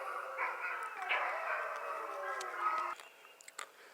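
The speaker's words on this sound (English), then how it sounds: "the dogs are all barking" Several dogs bark and yip on a homestead property, forming a faint, overlapping chorus at a distance that thins out into scattered sharp barks toward the end.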